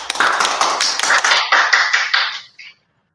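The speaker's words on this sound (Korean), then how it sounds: "세 분의 선생님 박수로 맞이해 주시기 바랍니다" Applause welcoming three teachers at a school lesson-sharing event, a burst of close, dense clapping that tapers off and stops abruptly into silence.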